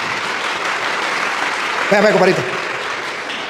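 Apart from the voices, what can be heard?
audience applause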